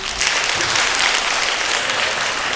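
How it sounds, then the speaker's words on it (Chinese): Audience applause at a Spring Festival gala, a dense, steady wash of many hands clapping, loud and even throughout. "我们再来一点掌声好不好？"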